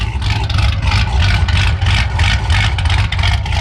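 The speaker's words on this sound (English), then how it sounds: "This is how Corvettes are supposed to sound." A modified Corvette Z06 engine idles nearby with a deep, lumpy, choppy burble, steady and loud with no one talking over it.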